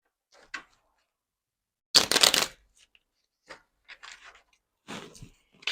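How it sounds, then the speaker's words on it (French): Oracle cards being shuffled and drawn by hand: a quiet scatter of short papery riffles and taps with one louder burst of shuffling, close and intimate, separated by stretches of silence. "une petite carte du petit oracle des guidances étoilées pour vous"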